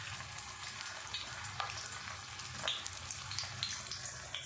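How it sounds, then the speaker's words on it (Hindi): Aloo matar tikki patties shallow frying in oil on a flat tawa, a steady close sizzle and crackle with scattered small pops and light spatter throughout, no voices over it. "हम इसको शैलो फ्राई करेंगे, तो मैंने ले लिया तवा।"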